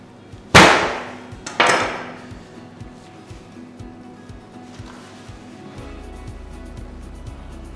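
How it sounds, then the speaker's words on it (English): Butcher's cleaver chopping a lamb loin into chops, two loud, sharp cracking strikes close together near the start, followed by quieter knocking and handling sounds on the block. "We cut all the loin into chops."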